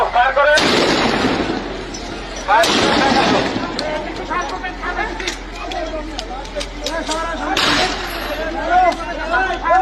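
Police gunfire aimed at students during a street crackdown in Bangladesh: a few loud, sharp cracks with echoing tails break through a background of shouting voices and crowd noise, with further bursts spread across the scene.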